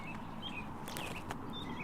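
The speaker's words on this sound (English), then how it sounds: "I hope these birds aren't too loud for you guys." Faint bird chirps and short whistled calls outdoors over a low background hum, a few scattered tweets with soft rustling, no talk.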